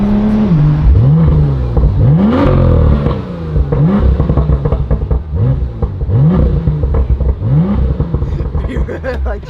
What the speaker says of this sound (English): Josh is revving beside a rusty Prius